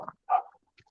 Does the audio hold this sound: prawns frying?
no